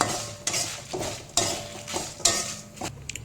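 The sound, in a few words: chilies frying in a pan for Telugu spice powder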